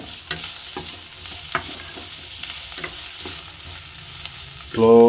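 Spices fry in a pan on a medium flame for nalli mutton with ragi balls, giving a quiet, steady sizzle. Light stirring scrapes tick at irregular intervals, and a louder burst comes right at the end.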